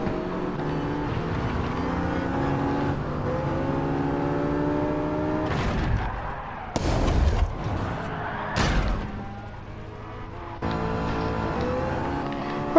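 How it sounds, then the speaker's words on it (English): A car crashes in a racing video game: an engine hums and shifts pitch, then sharp, loud impacts and scraping bursts break in before the engine drone comes back. "What a weird crash"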